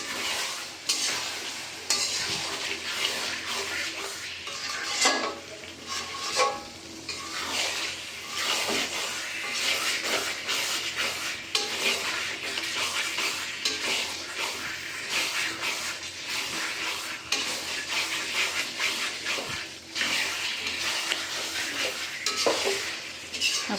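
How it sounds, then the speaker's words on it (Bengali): Meat stir-fried in a pan for a Bengali kosha dish, a steady close sizzle broken by frequent scrapes and clacks of a spatula against the metal pan, continuous throughout with no talking. "ভালো করে মাংসটা আমি আবার কষাবো।"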